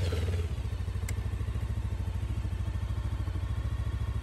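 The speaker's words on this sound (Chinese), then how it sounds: "车子打着了，让它在这儿启动一下吧。" A motorcycle engine catches after a jump start from a portable power bank, settling into a steady, close, loud idle with a regular pulsing beat and a brief click near the start.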